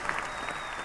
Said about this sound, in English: It's the kung fu applause, a little delayed applause, right?